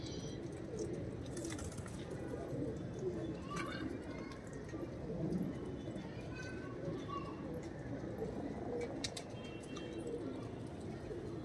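A pair of Rajasthani lalsira pigeons with black tails, a large breeding pair in a loft, coo softly and repeatedly amid faint background noise, while someone talks nearby.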